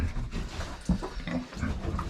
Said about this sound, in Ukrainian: Захворіла наша свинка білопояса.